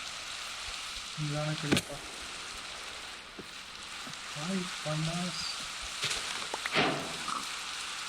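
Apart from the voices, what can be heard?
rain falling in Minecraft video game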